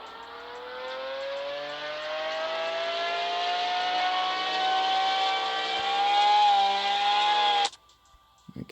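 Video game car engine in Drag Racing Streets revving steadily upward through a full dyno test run, a loud rising drone lasting about eight seconds before cutting off sharply.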